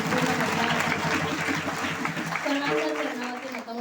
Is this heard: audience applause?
yes